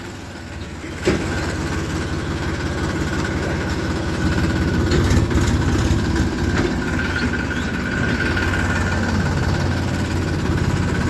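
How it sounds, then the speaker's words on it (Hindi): A heavy diesel tractor engine runs steadily throughout, a low rumbling idle that swells slightly louder partway through, with no voices. "यहाँ फिर ट्रैक्टर पहले गेयर में आएगा।"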